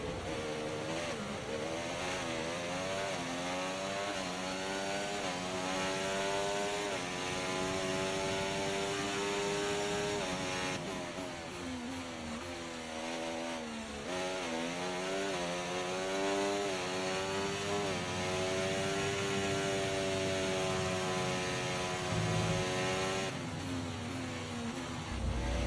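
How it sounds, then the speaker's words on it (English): A vehicle engine strains hard in a GTA roleplay game, a loud raspy drone sweeping up and down repeatedly as it revs, close and continuous throughout. "A lot of strain on the engine there. That did not sound good."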